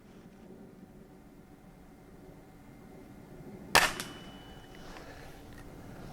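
A single sharp crack from a Diana 460 Magnum .22 caliber break-barrel air rifle rings out against a quiet room background, a brief loud report followed by a short ringing decay.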